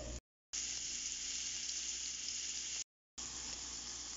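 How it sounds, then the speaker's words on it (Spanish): Lentils fry in a pan with a soft, steady sizzle at low level, broken by two short silent gaps, with no voices. "Voy a dejarlas freír de 10 a 15 minutos"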